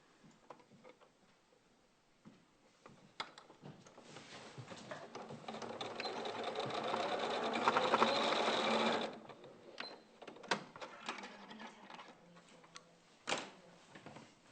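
A domestic sewing machine stitches a fleece seam, quiet at first, then whirring in a steady rising run that stops abruptly, followed by scattered clicks and small handling knocks.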